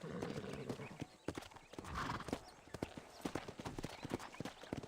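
Horse hooves clop in a quick, uneven rhythm close by in the video game Red Dead Redemption, with a short whinny partway through and a soft rumble of movement underneath.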